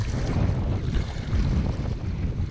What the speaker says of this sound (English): The wind's really kicked up.